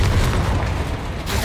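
Confringo blasting spell explosions in Hogwarts Legacy, a continuous booming, rumbling blast with dense low-end energy filling the whole moment, loud and close, with no clear gaps between bursts.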